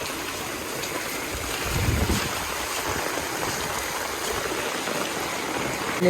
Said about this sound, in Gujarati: અમારા ઘર પાસે પાણી નદી આવી ગઈ